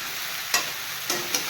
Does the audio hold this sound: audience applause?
no